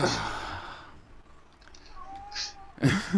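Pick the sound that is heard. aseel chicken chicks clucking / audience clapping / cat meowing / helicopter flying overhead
cat meowing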